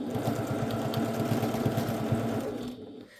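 A sewing machine topstitches through quilting cotton, running in a steady rapid mechanical rattle of needle strokes for about two and a half seconds before stopping, close and fairly quiet.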